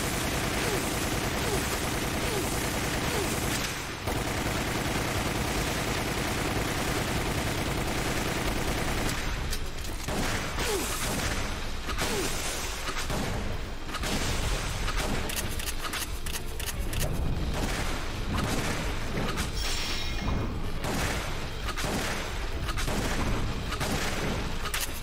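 Repeated gunshots in Resident Evil: Umbrella Chronicles, fired at a vine during a boss fight, form a continuous rattle of shots throughout, loud and dense, with a few breaks and a brief voice over it.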